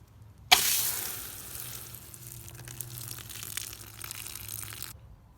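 Excess water pours out of a bin of wet shredded paper and cardboard for a worm compost bin, giving a sudden splash and then a steady watery rush that runs for several seconds before stopping abruptly.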